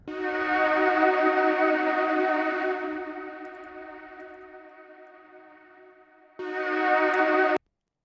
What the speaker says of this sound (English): this synth sounds, it was something like this